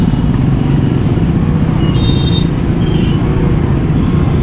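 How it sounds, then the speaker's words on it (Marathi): Heavy road traffic jammed near Kashi, Varanasi, during the Maha Kumbh Mela, a loud, dense, continuous roar of engines with a couple of brief high horn or brake squeals. "अरे भाई असं ट्रॅफिक लागलंय"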